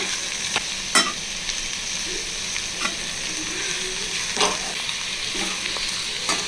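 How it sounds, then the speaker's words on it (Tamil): Chopped green beans for poriyal fry in a pan with a steady low sizzle, broken by a few sharp scrapes and clinks of a spoon stirring at irregular moments. "இந்த மாதிரி ஃப்ரை பண்ணிக்கோங்க"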